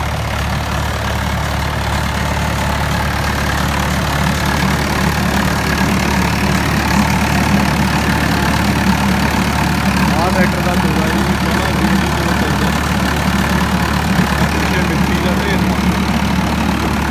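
A tractor engine runs in a field on leased farmland, giving a steady, continuous low rumble that holds an even level throughout, with faint voices underneath.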